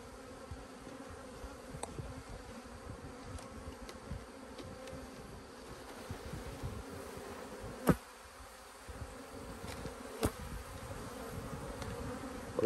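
Honeybees buzzing steadily in an opened beehive in a beeyard, a continuous close hum with a few sharper passes of individual bees, no talk.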